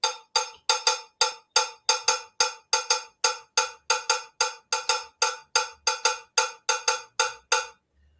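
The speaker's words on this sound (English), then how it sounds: "Just to demonstrate what the bembe sounds like, it sounds like this." Cowbell playing a bembe rhythm, a steady stream of bright, sharp metallic strikes in an uneven repeating pattern, each note decaying quickly, heard clearly and alone without any talking.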